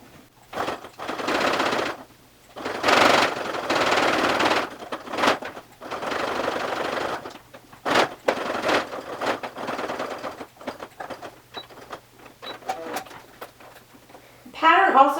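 Sewing machine stitching through layered fabric of a waist bag, running in several loud bursts of rapid mechanical stitching separated by brief pauses and small handling clicks.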